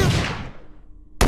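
A loud gunshot with a long fading boom in a VRChat zombie survival game, followed by a second sharp shot right at the end.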